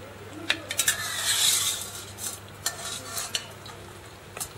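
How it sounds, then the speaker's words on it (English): Onion and chicken fry in a wok for Thai massaman curry, a soft sizzle beneath sharp scrapes and clinks of a utensil stirring, several irregular strokes close by. "Now the onion is cooking with the chicken."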